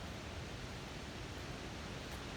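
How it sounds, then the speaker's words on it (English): Falling water of a waterfall in North Cascades National Park, a dense, even broadband roar filling the whole moment without pause or voices. "falling water"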